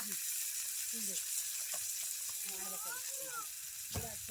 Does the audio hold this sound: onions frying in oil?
yes